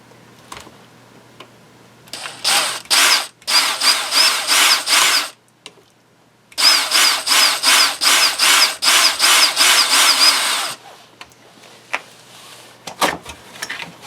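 A drill bores out an 1/8 inch blind rivet on a reproduction shift plate for a third-generation Camaro, in two loud close bursts of pulsing, whining drilling separated by pauses.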